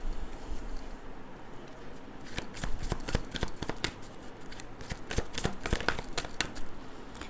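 Tarot cards are shuffled by hand in brisk, crisp riffles and flicks, close and moderately loud, quieter at first and then busier through the rest.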